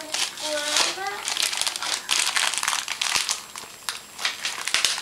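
A greeting card from a grandmother is opened by young children, giving bursts of crinkly paper rustling and tearing close by, with kids' voices and adults talking over it.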